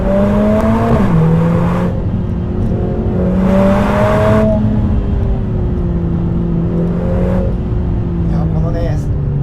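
Lotus Emira 2.0 sports car driving a damp winding road, its engine note rising and falling through corners with repeated revs and downshifts, close and steady under someone talking.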